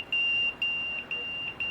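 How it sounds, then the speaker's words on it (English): A pager sounds a loud, piercing electronic beep in four evenly spaced, sustained pulses, each cutting in sharply over a quiet background. "let's put it on beep and see"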